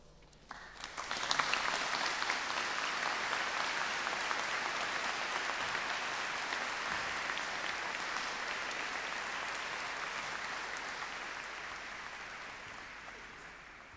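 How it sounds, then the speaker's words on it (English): Audience at a university graduation ceremony breaks into a long, sustained round of applause that swells quickly, holds steady for many seconds, then gradually thins out, with no speech over it. "You all deserve a huge round of applause."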